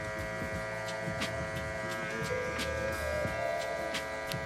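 An electric hair clipper buzzes steadily and close up while cutting a burst fade with the lever fully closed, a continuous hum with small shifts as the blade moves through hair.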